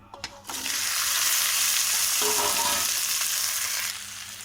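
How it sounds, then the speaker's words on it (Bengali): Yard-long beans hitting hot oil in a wok set off a loud, steady sizzle that starts abruptly after a brief quiet clatter and holds evenly for about three and a half seconds before easing slightly. "গাজর, ক্যাপসিকাম আর বরবটি এই কটা আমি ভেজে নেব"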